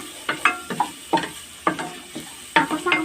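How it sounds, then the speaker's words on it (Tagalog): Jackfruit stirred in coconut milk with onion for ginataang langka, a spoon scraping and clacking against the pot in repeated uneven strokes over a light simmering sizzle, close and fairly loud, no talking. "It's mixing properly."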